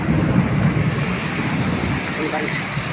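Heavy rain pours steadily as a dense, even wash during a thunderstorm, with a low rumble of thunder underneath, loud and continuous throughout.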